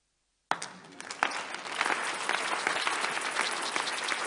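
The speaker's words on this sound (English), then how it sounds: "Stop clapping." Church congregation breaks into sustained clapping after a sudden start, a dense wash of many hands that swells and holds steady throughout.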